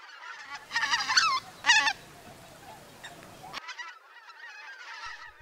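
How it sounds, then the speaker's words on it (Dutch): White-fronted geese honk in the Dutch Alblasserwaard polder, a cluster of loud nasal calls up close followed by fainter honking from the flock. "De koolgans is zoals alle ganzen een levendige vogel."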